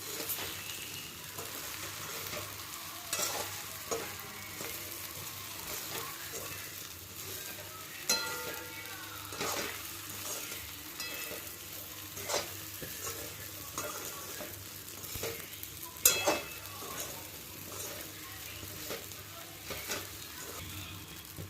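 Vagharela dhokla stirred slowly in a pan on a low flame, giving a soft, even sizzle with frequent gentle scraping strokes and occasional clinks of the spoon, quiet and close, no voices.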